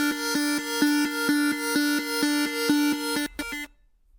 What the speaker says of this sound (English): And then I also added this arp here in the background.